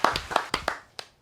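Hands clapping for a guest arriving on a hip-hop podcast set: a short burst of about six sharp, close claps in an uneven rhythm, with no talk.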